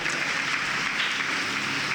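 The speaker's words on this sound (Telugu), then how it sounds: "గట్టిగా చప్పట్లు కొట్టాడు, గట్టిగా కొట్టాలా" A church congregation claps loudly and continuously, a dense, steady roar of many hands filling the room with no voices on top.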